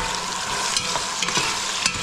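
Meat for pinakbet browns in a hot pan, giving a dense, constant sizzle of frying broken by a few brief scrapes and clatters of stirring.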